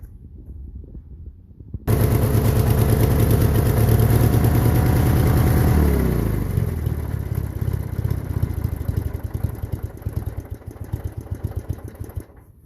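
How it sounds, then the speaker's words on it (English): Craftsman LTX1000 lawn tractor engine, freshly rebuilt, cranks briefly then catches and roars loudly to life before settling into a steady, rhythmic idle, with no talking. "I literally just bumped the starter button and it kicked right off."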